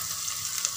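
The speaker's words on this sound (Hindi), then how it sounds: "चलाते हैं, हल्का सा भुनने देते हैं।" Ginger and garlic sizzle gently in a pan as they are stirred and sautéed, a brief, steady hiss heard up close.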